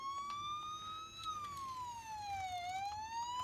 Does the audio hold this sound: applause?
no